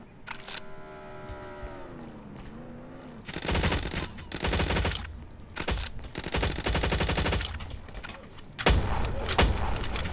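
Pistol shots ring out in the Roblox Jailbreak video game during a cargo ship heist, sharp separate bangs in quick bursts over a faint in-game tone, fairly close and loud, with no talk.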